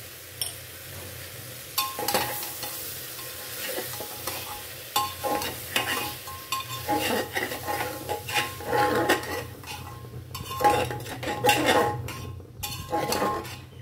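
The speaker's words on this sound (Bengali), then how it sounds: "দিয়ে ভালো করে সুন্দর করে নাড়িয়ে দিলাম।" A spoon repeatedly scrapes and clanks against a pot while ridge gourd sabzi is stirred, with an underlying sizzle. The metallic strokes are loud and close and come in an irregular rhythm.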